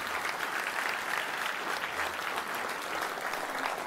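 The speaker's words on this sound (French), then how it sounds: "Je vous demande de l'applaudir." An audience at a deputy's 2025 New Year greetings event in a hall in Moselle claps steadily and densely throughout, a full sustained round of applause without breaks.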